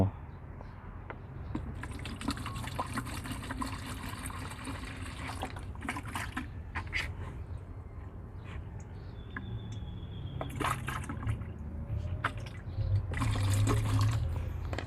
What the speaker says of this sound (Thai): เอาน้ำก่อน จะได้กะถูกว่าจะใช้น้ำสักเท่าไหร่ ตัวนี้ห้าลิตรนะ เป็นบัวตัวเล็กนะ